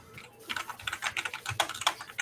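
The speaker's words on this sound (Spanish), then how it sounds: "No, teclado mecánico. Que suena con madres todas las teclas." Rapid typing on a mechanical gaming keyboard, a close, quiet run of clicky keystrokes in an uneven rhythm with no talk.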